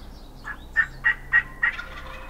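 Wild turkey gobbling in a series of four or five quick, evenly spaced calls at moderate distance during a spring turkey hunt outdoors, with no talk over them.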